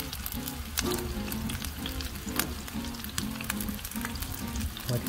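Battered chicken frying in oil on a Blackstone griddle for orange chicken, a steady crackling sizzle with scattered sharp pops throughout, close and moderately loud, with no talking.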